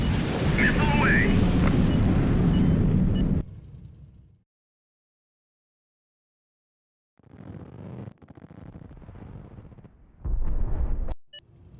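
Cruise missiles strike targets in the naval strategy game HighFleet, starting with a loud, rumbling explosion that fades into silence, then a series of shorter, sharper blasts and bursts.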